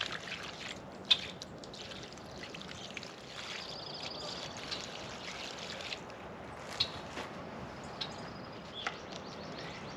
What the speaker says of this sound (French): je vais faire couler l'eau dans l'autre sens